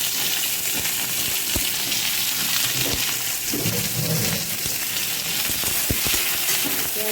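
Garlic frying in a pan, a steady close sizzle with occasional stirring clicks and scrapes throughout.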